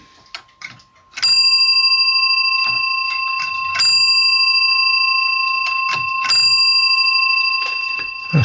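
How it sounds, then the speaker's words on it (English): Bell of a French grandfather clock struck three times, each loud metallic ding ringing on with a long sustained tone for a few seconds, with faint handling noises before the first strike. "A good bell should, when it dings, it should ring for about 3 or 4 seconds after"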